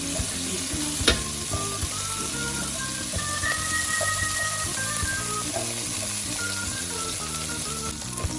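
Bagoong anchovies sizzle and fry in a pan, a steady close crackle running throughout with a sharp clink early on, no voices.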